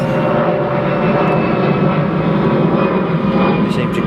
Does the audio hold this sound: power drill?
no